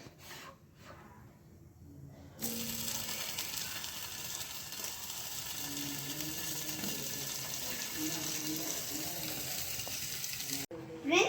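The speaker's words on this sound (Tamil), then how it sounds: "பன்னீரை வந்து ஃபஸ்ட்டு 2 ஸ்லைஸாக வெட்டி இங்கே டோஸ்ட் பண்ணிக்கலாம்" A steady sizzle and hiss of paneer slices toasting in a pan, preceded by a few quiet seconds of softer kitchen noise.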